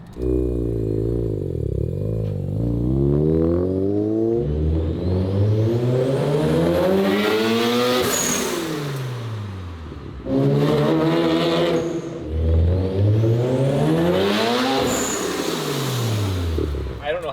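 A turbocharged car engine revs hard in repeated rising and falling sweeps, loud and close, with a brief drop between bursts.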